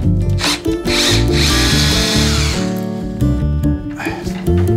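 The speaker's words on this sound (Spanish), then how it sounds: "lo que haremos ahora será inmediatamente quitar esos tirafondos" Power drill backing lag screws out of a loose wooden chair, with loud bursts of whining motor that change pitch as the screws turn and brief pauses between runs.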